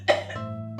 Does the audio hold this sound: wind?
no